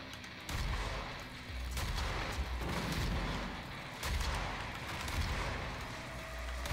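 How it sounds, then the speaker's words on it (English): Rocket launcher firing in Doom (2016), a series of heavy booming blasts with rumbling explosions, loud and close, repeating every second or two. "I legit love the rocket launcher."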